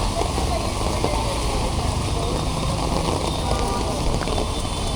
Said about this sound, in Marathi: पाऊस पडतो